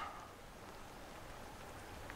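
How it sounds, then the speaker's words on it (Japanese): Rain falls on a Rightline Gear SUV tent with its rainfly pitched at Fumotoppara campground, making a faint, steady, even patter with no voices. "いや雨降ってきたわ。"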